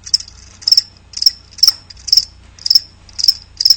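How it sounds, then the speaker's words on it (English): Crickets chirp in a radio ad aired during a Windsor Spitfires vs. Erie Otters hockey broadcast: about eight quick, evenly spaced chirp bursts, close and clear, with no talk. "That's right, crickets."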